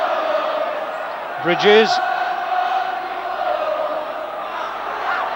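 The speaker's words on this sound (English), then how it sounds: "And the crowd giving them good vocal support." A rugby league crowd roars steadily at the Boulevard as Hull FC play Australia in 1982, with a brief louder shout rising partway through and a commentator speaking over the din.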